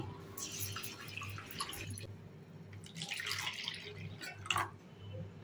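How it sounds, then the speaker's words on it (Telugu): Black gram (urad dal) is rinsed with water in a bowl, giving soft, close splashing and trickling sounds in uneven bursts over a low steady background hum. "మినప్పప్పును ఒకసారి శుభ్రంగా వాష్ చేసుకోండి"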